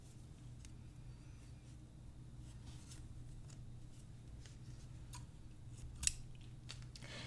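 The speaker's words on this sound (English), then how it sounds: "fold those in half and cut at the center so that you have 4 equal pieces" Scissors snip through velvet ribbon in a quiet craft setting, a series of faint, crisp cuts spaced out over a low steady hum, with one sharper snip toward the end.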